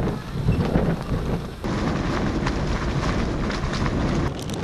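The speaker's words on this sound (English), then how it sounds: "A dust storm and 60-mile-an-hour winds make a direct hit on the flight line." A dust storm with 60-mile-an-hour winds on a dry lake bed roars as loud, steady wind buffeting against the microphone, a constant rumbling rush with gusty surges throughout.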